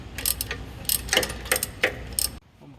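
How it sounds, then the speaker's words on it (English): A ratchet loosens a torque converter bolt on a 2010 Silverado's 6L80E transmission, giving a series of sharp clicking pulls in uneven bursts, close and clear, before stopping abruptly. "This is the third and last torque converter bolt getting loosened up."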